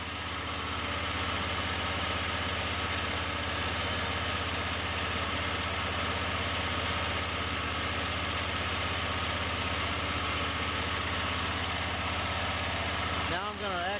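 A Wright Stander ZK mower engine running at a steady idle, a constant close mechanical drone with slight vibration throughout and a brief change near the end.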